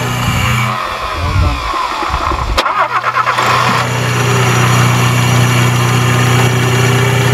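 Ford Capri B6 turbo engine cranking, catching and settling into a rough, loud idle nearby, with a brief revving burst as it first fires and a steady running drone afterward.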